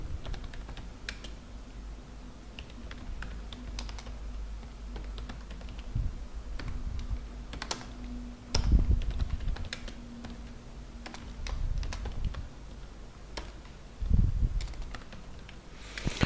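Keys clatter steadily as C++ code is typed on a computer keyboard, a close run of light clicks with a few louder bursts and a faint fan-like hum underneath.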